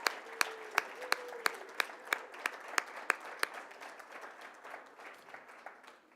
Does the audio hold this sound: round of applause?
yes